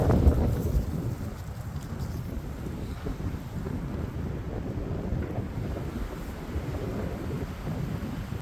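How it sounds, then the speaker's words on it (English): Steady, very cold winter wind at a campsite buffets the microphone in a low, continuous roar, with gusty rumbling and no voices, holding at a fairly even level throughout. "You might be able to hear some of the wind"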